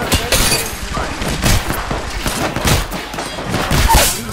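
Dense, continuous gunfire from the video game Apex Legends, with rapid overlapping shots and crashing impacts throughout, loud and sustained with a game soundtrack or effects layered beneath.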